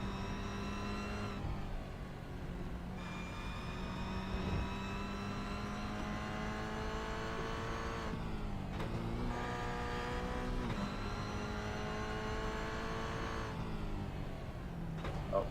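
A Toyota GR86 race car laps Oschersleben circuit, its engine revving high and loud through repeated upshifts and downshifts, steady and close with brief dips between gears.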